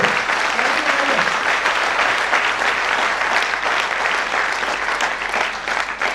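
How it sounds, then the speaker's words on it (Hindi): An audience at a corporate motivational talk breaks into sustained applause, a thick wash of clapping that holds steady for several seconds with some crowd voices mixed in. "एक बार तालियां हो जाए"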